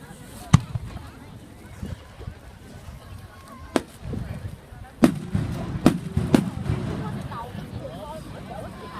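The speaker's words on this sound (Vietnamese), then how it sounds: "Các cụ châm pháo lâu quá." Fireworks go off by the sea: several sharp, loud cracks and pops arrive at irregular intervals over quiet ambient noise, with people talking and reacting in between.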